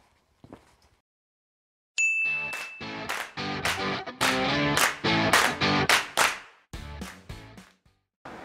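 Short channel intro jingle that opens after a brief silence with a bright chime, then bursts into a punchy sequence of loud rhythmic hits and chords over about six seconds before stopping abruptly.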